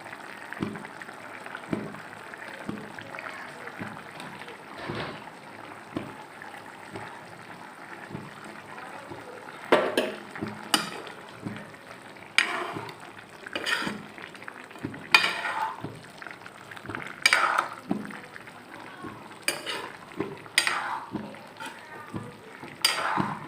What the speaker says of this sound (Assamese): মোৰ মাছ বিলাহী উতলি আছে আৰু ইয়াতে দি দিছোঁ মই এতিয়া মাছখিনি।